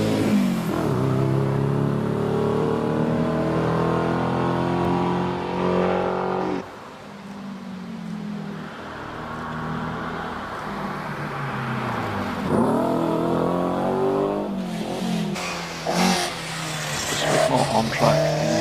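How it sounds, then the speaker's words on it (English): A Ford Escort Mark II rally car at the Prescott hill climb, revving hard and dropping through gear changes with rising and falling engine notes and some tyre squeal, while a commentator talks over it. "On track in his Mark II Escort"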